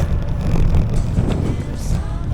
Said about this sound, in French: Je sens la résistance du vent.